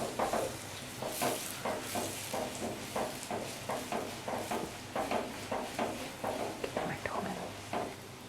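Paratha cooking in ghee on a home stove gives a steady sizzle and hiss, with repeated soft scraping and stirring strokes throughout.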